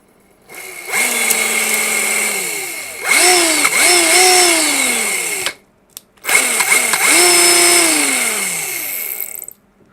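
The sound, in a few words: Bosch GDS 18V-LIHT impact wrench motor running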